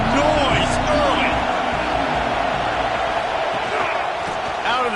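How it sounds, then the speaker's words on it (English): A stadium crowd roars at a Georgia college football game, a loud, continuous wash of cheering and noise while a commentator speaks over it. "This crowd bringing the energy and noise early."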